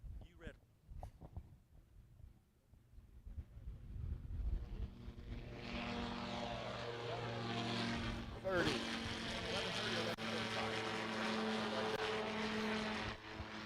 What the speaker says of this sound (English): Yellow Carbon Cub with a nice black stripe on it. He's an incoming.